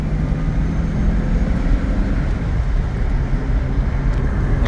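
A 2013 Chevrolet Corvette 427 on a test drive with the windows down, giving a loud, steady rumble of engine and road noise mixed with wind buffeting throughout.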